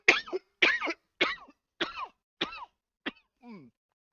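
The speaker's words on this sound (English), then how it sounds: "Sorry, I'm kind of smoking weed right now, and I got the cough." Harsh coughing fits from someone smoking weed: seven separate raspy, throaty bursts in a steady rhythm, close and fairly loud with brief silences between them, the last one weaker and more strained.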